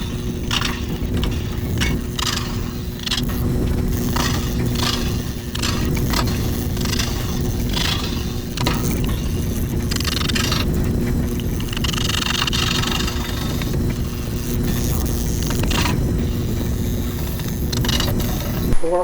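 A wood lathe turning a large rosewood bowl at about 360 RPM gives a steady loud mechanical drone with a constant low hum and continuous scraping, grinding texture throughout, without pauses.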